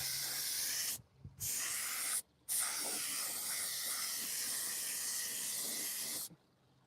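A spray can puts a coat of white paint onto a pine wood gnome in three close, steady hissing bursts separated by short pauses, with no talk.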